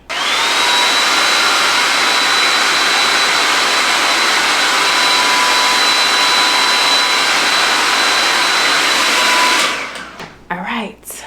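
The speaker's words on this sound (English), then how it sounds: "I'm gonna go to my blow dryer and I'm about to just blow dry my hairline" A hair dryer roars close up with a steady, loud whooshing hum and faint whine, running for several seconds before switching off, followed by brief rustling.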